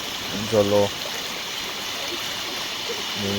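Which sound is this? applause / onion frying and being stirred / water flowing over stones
water flowing over stones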